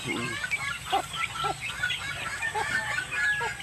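A hen clucks in short, soft bursts nearby amid light outdoor background noise.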